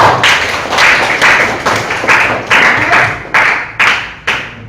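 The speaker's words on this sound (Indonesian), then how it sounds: "terima kasih atas tepuk tangan buat Atala" Applause from a small classroom group during an Islamic studies lesson, with separate bursts of claps forming a loose, uneven rhythm and no talking over them.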